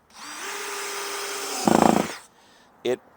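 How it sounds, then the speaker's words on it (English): A power drill whirs up steadily, then bites into wood with a louder grinding rattle before stopping, followed by a brief second burst. "if I'm drilling something in here"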